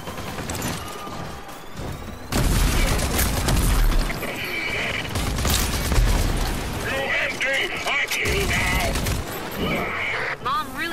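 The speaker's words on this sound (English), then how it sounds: "Use grenades to deal massive damage" RAGE 2 video game combat with grenades going off: two heavy, rumbling blasts land around the two-second and six-second marks amid dense, busy game effects and gunfire-like crackle.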